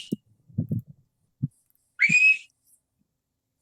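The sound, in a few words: whistle to call the dogs in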